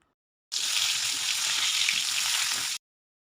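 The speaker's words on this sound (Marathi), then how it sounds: "आता तेलात सर्वप्रथम हिंग टाकून भरलेली वांगी आपण एक एक करून टाकून घेत आहोत" Whole stuffed brinjals dropped into hot oil with asafoetida, a loud, steady, close sizzle of frying that starts abruptly and stops after about two seconds, with no talking.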